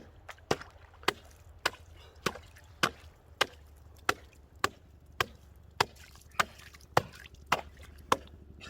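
Chopping at frozen lake ice to open a fishing hole: sharp, regular strikes about every half second, a dozen or more evenly spaced impacts, close and crisp with a faint watery splash beneath, no talking.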